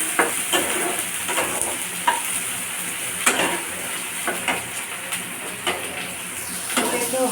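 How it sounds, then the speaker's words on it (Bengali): Meat frying in a pan for a home-cooked meat curry, a steady close sizzle with repeated scrapes and knocks of a spoon stirring against the pan, no talking. "তো মাংসটা ভাজা ভাজা আসে"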